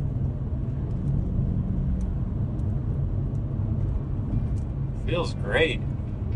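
A BMW 545i E60 with a ZF6HP26 transmission cruises and shifts, giving a steady low cabin rumble with a brief tonal whine as a gear changes. Someone speaks briefly near the end.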